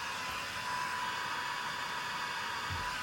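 A small Lynn Lash handheld fan, styled like a hair dryer, runs with a steady, even whoosh of broadband airflow noise, close and constant with no change in speed.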